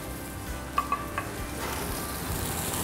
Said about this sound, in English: We've got our oil nice and hot. We're gonna sear the face side down first.